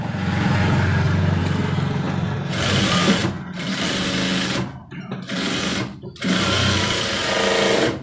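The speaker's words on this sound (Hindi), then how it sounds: "यहाँ से एक लग की सिलाई लगा के" Sewing machine stitching the edges of a cross pocket on a garment, a steady continuous motor whir running almost throughout with two brief pauses, loud and close.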